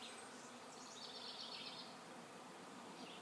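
A honeybee swarm buzzing outdoors, a faint, steady, distant drone of many bees with a light wavering hum and no voices.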